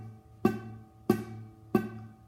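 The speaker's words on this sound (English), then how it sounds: "and that comes from not pressing down on the strings hard enough." Three quiet, close guitar notes plucked about two-thirds of a second apart, buzzing because the strings are not pressed down hard enough, each with a sharp attack and a short, fading ring over a low hum.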